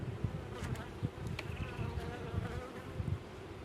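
A dense swarm of honeybees drones steadily and close during a hive and queen inspection, continuous buzzing with faint clicks and frame knocks scattered through it.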